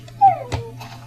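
A dog in the video game Minecraft gives a brief high whimper followed by a softer second whine, close and fairly loud over a low steady hum.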